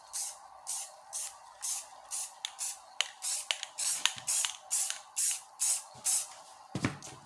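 Repeated short spray bursts during epoxy resin work, roughly a dozen evenly spaced hissing puffs close to the microphone with brief gaps between them.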